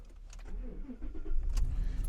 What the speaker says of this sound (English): Let's see how the truck starts now